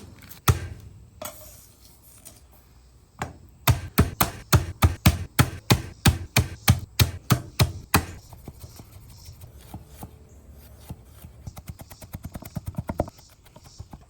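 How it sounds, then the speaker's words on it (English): Two whole heads of garlic smashed and then chopped on a Blackstone griddle: a few hard smacks, then a fast, even run of loud, close knife chops, then lighter scattered tapping and scraping. "2 whole heads of garlic. We're going to do the smash and the chop."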